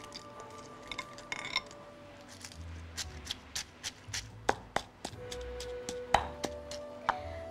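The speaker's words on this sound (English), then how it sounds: "Let's smash the fresh fried ingredients" Crispy fried ingredients and chilies for massaman curry paste are pounded in a mortar, giving a string of sharp, clinking thuds at an uneven pace, close and fairly quiet with no talking.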